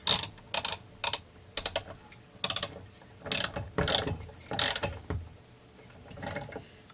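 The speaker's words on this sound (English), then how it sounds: "And I need torque wrench for this." A torque wrench tightens a nut on a Husqvarna 372XP chainsaw during reassembly, giving a series of sharp, close ratcheting clicks in quick bursts, then a few longer grinding strokes that fade toward the end.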